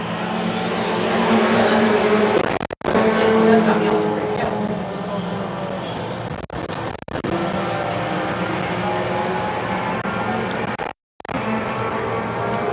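Stock cars race around the Peterborough Speedway third-mile oval in a bone stock feature, a steady engine drone under continuous race commentary, with a few brief dropouts.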